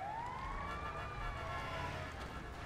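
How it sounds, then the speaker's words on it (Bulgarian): An ambulance siren in a video game, wailing steadily at a fair distance with a rising sweep, over game background noise, with no talk. "Линейката"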